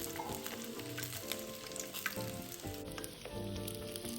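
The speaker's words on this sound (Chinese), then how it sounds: "鸡蛋下锅后再翻个面，鸡蛋预热后马上会起虎皮酥。" Eggs deep-frying in hot oil in a wok, a loud continuous crackling sizzle with occasional stirring clinks and scrapes, close up and without talk.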